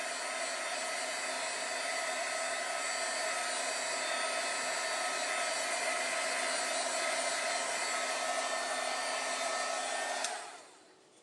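A hair dryer blows steadily at close range for about ten seconds to dry a tissue-box craft project, then it switches off and its whir winds down.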